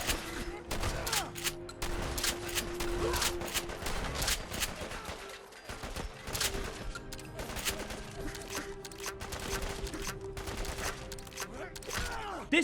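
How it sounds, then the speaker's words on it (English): A pump-action shotgun fires repeatedly in the video game Fallout 4, dense loud blasts and clacking pump actions in rapid succession amid other combat noise, with a voice talking over part of it. "This is one of the best shotguns I have ever used in Fallout 4."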